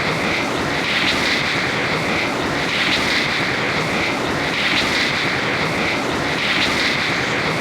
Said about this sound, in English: this is very loud in the cockpit